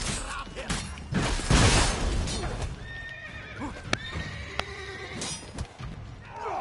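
Horses in The Witcher 3 whinny and snort amid clip-clopping hooves, with a couple of sharp metallic clinks and a burst of game noise early on, the neighs rising clearly in the foreground.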